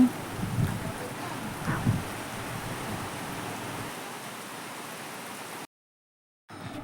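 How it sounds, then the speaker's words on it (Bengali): Heavy morning rain falls in a continuous, even hiss at moderate volume, broken by a short moment of complete silence before it resumes. "আজকে সকালবেলা থেকেই বৃষ্টি হচ্ছে, কি প্রচুর বৃষ্টি হচ্ছে এখানে"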